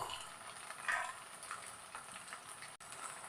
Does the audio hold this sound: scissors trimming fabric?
no